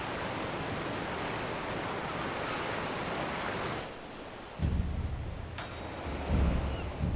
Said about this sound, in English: the crash of the waves as we drew closer to Kugana